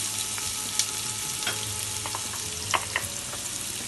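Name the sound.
onions frying in olive oil in a hot pan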